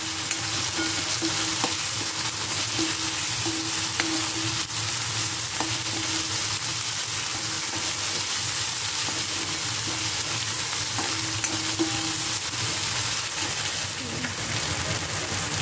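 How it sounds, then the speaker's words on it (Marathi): Onion and tomato roast in a hot pan for a masala paste for stuffed brinjal bharit, giving a steady, close sizzle with light stirring scrapes throughout. "म्हणून मी कांदो आणि टोमॅटो वाटणात पण घालतोय भाजून"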